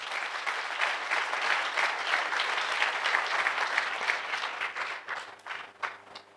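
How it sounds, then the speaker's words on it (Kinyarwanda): A church congregation applauds during a sermon, a dense, steady wash of many hands clapping that carries on for several seconds before thinning out unevenly toward the end, with no voices over it. "Piga makofi kwa Bwana."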